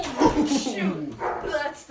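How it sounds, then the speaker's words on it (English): A dog barks a few times at moderate distance, with yips mixed in among the barks. "Yeah, that's the dog."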